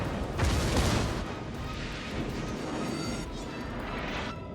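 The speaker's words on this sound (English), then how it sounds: "Get a big hit from one of the cruisers." A big naval gunfire hit lands on a large ship in the World of Warships video game, a heavy booming blast followed by a sustained rumbling roar of battle, fairly loud with no talking.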